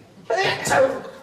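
A single short sneeze bursts out, close and fairly loud, lasting under a second.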